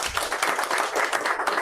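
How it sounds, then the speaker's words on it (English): An audience claps steadily in a hall after being asked to applaud a team representing their nation at a sport-themed event, a dense, even patter lasting throughout without a break. "Let's give them a round of applause"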